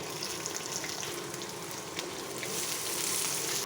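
Onions and green chillies frying in coconut oil for a crab roast, a steady close sizzling hiss that runs evenly throughout with no talking.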